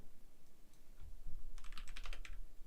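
Quick burst of typing on a computer keyboard, faint and close, a rapid cluster of clicky keystrokes after a few scattered taps, with no talking.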